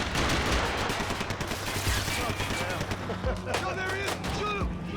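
Rapid bursts of gunfire in the game Max Payne 3, loud and dense throughout with sharp cracks over a constant background, while a voice shouts over the shooting.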